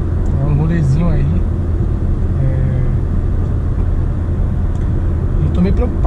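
Car cruising on a highway at about 90 km/h on the way to a repair shop, a steady loud engine and road rumble heard from inside, with someone talking over it throughout.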